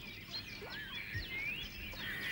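Domestic geese on an old-fashioned farm call with faint, overlapping honks and cries as they rush to grab pieces of dry bread, heard at a moderate distance.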